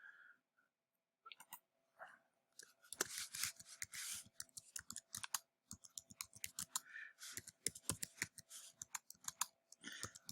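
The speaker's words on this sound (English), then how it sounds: "Let's type that in here for you." Computer keyboard keys are struck in quick, irregular bursts of close, crisp clicks with short pauses between them, in an otherwise quiet room.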